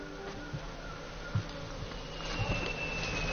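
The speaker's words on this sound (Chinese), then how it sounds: "这蜜蜂不会散吧？" A swarm of wild bees hanging in a tree drones with a faint, continuous buzz, with a few louder passes of individual insects close by, and no voices.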